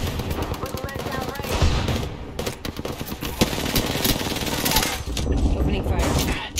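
Rapid automatic gunfire in the Apex Legends video game, loud sustained bursts with dense crackling shots and brief pauses, mixed with other game effects.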